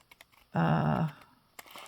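A single paper-cutting stroke as scissors slice through a junk mail envelope: a close, rasping snip lasting about half a second, with quiet handling sounds before and after.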